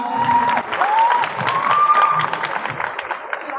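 A crowd at a company anniversary seminar claps and cheers. Scattered applause runs under a rising, drawn-out vocal cheer, loud at first and then thinning toward the end.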